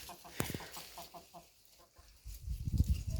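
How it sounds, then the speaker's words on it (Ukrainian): Chickens foraging outdoors cluck in a quick run of short, repeated notes, followed by a louder burst of rustling and low thumps nearby. "Що тут роблять кури?"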